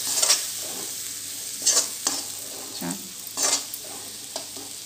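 Tomato masala fries and sizzles in hot oil, with a steady background crackle broken by several brief scrapes and stirs of a spoon against the pan, close and alone with no talking.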